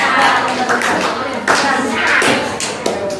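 Children in a classroom clap their hands during a lesson on traffic and transportation. The clapping is ragged and close, with overlapping claps and taps, and voices mix faintly with it.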